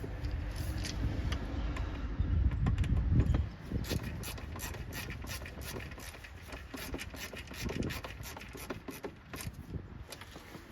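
A screw being driven into the air filter housing of a 2017 or later Kawasaki Mule SX, heard as close, steady mechanical clicking and ratcheting over a low rumble, with no talking.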